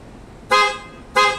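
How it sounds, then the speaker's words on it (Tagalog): A car horn, the stock unit, sounds two short, loud, bright honks about half a second apart, close by, against quiet background noise. "yung busina natin sir, yung stock muna"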